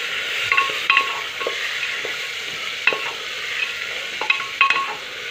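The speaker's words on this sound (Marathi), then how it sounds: "तेलामध्ये परतून झालेल्या आहेत" Vegetables, such as carrots and beans, sautéing in oil in a pan, with a steady sizzle broken up by repeated close scrapes and taps of a spoon as they are stirred.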